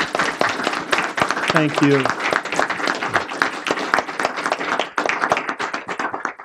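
Audience applause at a policy panel on North Korea-China relations, a dense round of clapping filling the room while a voice briefly speaks over it.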